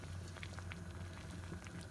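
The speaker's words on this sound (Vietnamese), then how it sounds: "Đây là nước đang sôi á, bây giờ mình bỏ trứng vô nha các bạn." Water at a rolling boil in a pot with eggs, cooked for Vietnamese bun rieu, gives a steady, faint bubbling and popping patter with no voices.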